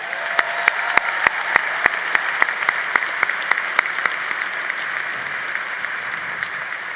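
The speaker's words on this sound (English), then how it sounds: "How about one more round of applause for Jim Weiss?" Sustained applause from a large convocation audience honoring Jim Weiss, dense clapping at steady strength with sharper individual claps popping out, no voices over it.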